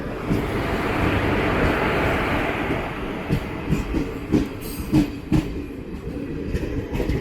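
The 12084 Jan Shatabdi Express passenger train rolls along the rails between Coimbatore and Mayiladuthurai, a loud continuous rumble that later breaks into rhythmic clickety-clack beats as the wheels pass over rail joints.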